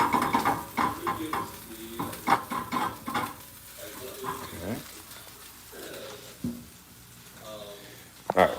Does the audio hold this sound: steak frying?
yes